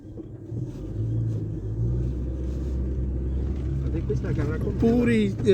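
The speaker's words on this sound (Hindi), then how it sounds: "ये 4 व्हील गाड़ी है" A four-wheel-drive Hilux pickup drives across open desert sand, with a steady low engine rumble running throughout and people talking over it inside the cab.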